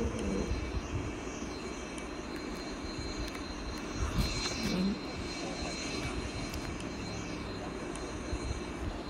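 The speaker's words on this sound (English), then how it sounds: "Okay, full power takeoff." A light aircraft engine runs at full power on the takeoff roll, a steady loud drone with strong propeller and engine hum filling the cabin, continuous throughout with a slight swell midway.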